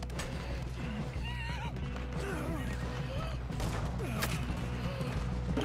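A horse whinnies a few times in Red Dead Redemption amid a dense, busy game soundscape with mechanical clatter and creaks, the calls rising and falling over steady background noise.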